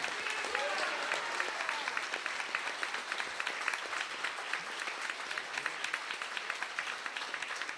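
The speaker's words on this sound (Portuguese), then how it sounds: "Vocês merecem uma grande salva de palmas a esses 2 grandes advogados." Sustained applause from an audience at a university and bar association tribute to a metalworkers' union, honouring two labour lawyers. Dense, steady clapping fills the whole stretch at an even level, with no clear voices standing out.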